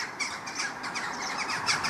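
Birds call outdoors on a dank, damp Monday morning, with repeated squawks and chirps at a moderate distance forming a continuous chorus and no talking.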